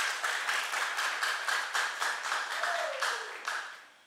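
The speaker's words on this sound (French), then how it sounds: "Vous pouvez applaudir s'il vous plaît." A French class applauds together, rhythmic group clapping in regular pulses that fades out toward the end, fairly close, with a faint brief voice partway through.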